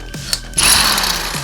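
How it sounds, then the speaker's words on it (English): A cobalt drill bit bores into tempered metal: a loud, steady grinding and whining drone starts after a few ratchety clicks and carries on to the end. "When you're drilling into metal like this, you do want to use the right drill bit. I'm using a cobalt drill bit here."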